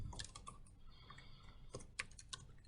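Typing on a computer keyboard while filling in an account name, a steady run of quiet, close key clicks with a few sharper taps and no talking.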